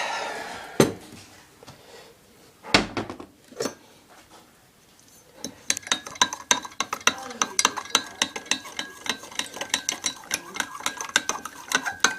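A grass juice mixture stirred in a container, a few scattered knocks at first and then a fast, steady run of close clinking and scraping strokes.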